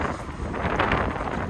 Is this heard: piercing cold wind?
yes